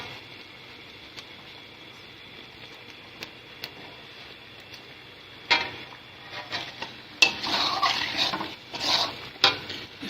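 Cream being added to dumba mutton karahi in a pan: a quiet low simmer with faint ticks, then a sudden louder burst of sizzling and bubbling with scraping stirs during the second half.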